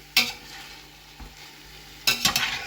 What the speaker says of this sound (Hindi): तो अब इसको अच्छे से मिक्स करते हैं और इसकी बुनाई करते हैं